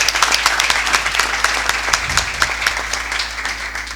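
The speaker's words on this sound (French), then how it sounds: "Ça s'applaudit, s'il vous plaît." Audience applause for a former Congolese karate champion, brisk, dense clapping from a studio crowd, close and continuous for a few seconds over a low steady hum.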